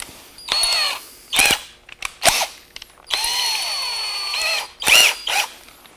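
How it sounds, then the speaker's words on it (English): A small Forstner bit bores a recess in a table workpiece, the drill whining in several short bursts and one longer run, separated by brief pauses. "I'm just going to use a small Forstner bit just to give myself a recess in here."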